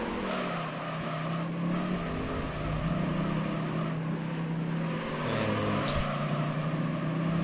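A race car engine drones steadily during a professional league race in Gran Turismo 3: A-Spec, a continuous loud hum with slight shifts in pitch and no voices over it.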